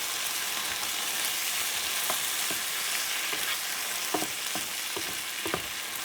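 Shrimp seasoned with paprika fry in a pan, a soft steady sizzle punctuated by scattered scrapes and taps of stirring that grow more frequent toward the end, with no talking.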